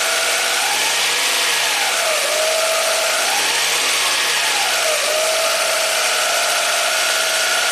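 The engine of a 2000 Toyota Camry with a surging, stalling fault runs at high RPM, holding a steady loud hum whose pitch rises and falls in slow repeated surges and never drops to a settled idle.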